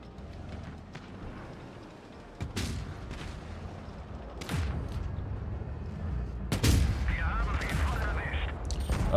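Tank guns firing in a World of Tanks Blitz tournament match, several heavy booming shots spaced a couple of seconds apart over a rumbling battle background, with talk running underneath.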